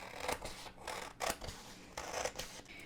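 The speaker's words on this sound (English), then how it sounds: "I need to cut these white parts off" Scissors snipping through a paper map to trim off its white blank edges, several close, crisp cutting strokes in an irregular rhythm with no one talking.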